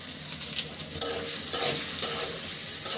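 Onion and chilli fry in hot oil, a continuous bright sizzle broken by a few clattering stirs of a utensil in the pan, close and fairly loud.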